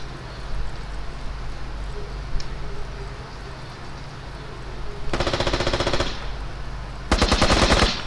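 Close automatic gunfire in the Squad video game comes in two loud rapid bursts over a steady background hum, with faint distant shots earlier.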